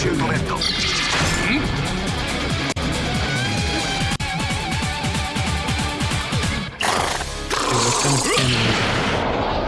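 A big cannon fires repeatedly in the mech combat game Armored Core VI, heavy booming blasts and crashes arriving in a rapid, dense series, loud and up close, while a player talks over the action.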